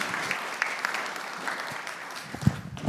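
Audience applause at the Transform Westside Summit, a morning community event in Atlanta's historic West Side, as a room claps for a local resource group; a steady wash of moderate clapping with one sharper thump near the end.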